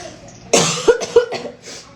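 A close, loud fit of coughing: one harsh cough followed by several shorter ones in quick succession.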